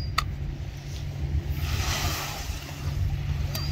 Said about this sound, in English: Looks like you're beating the water.